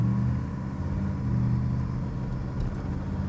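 A 1955 Chevrolet Bel Air drives along with a steady, low engine rumble and road noise from inside the car, fairly constant with slight swells, no talk.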